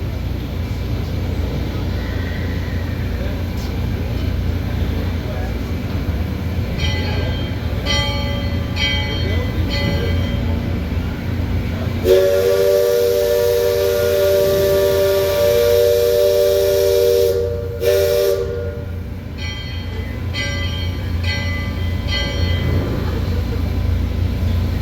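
A loud, sustained steam whistle blast from the Liberty Square Riverboat at the Magic Kingdom, lasting several seconds over a constant rumbling engine drone, with brief tonal bursts before and after.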